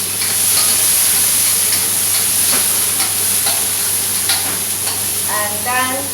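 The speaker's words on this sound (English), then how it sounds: "While frying, you need to decide which one go first." Ingredients for treasure duck sizzle steadily in a hot pan in a home kitchen, with a constant frying hiss and occasional stirring scrapes and clicks close by.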